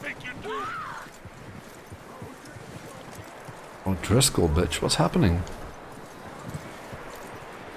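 In Red Dead Redemption 2, a horse's hooves clop steadily underneath a man's startled exclamations, with a brief higher horse call near the start and the hoofbeats continuing alone toward the end.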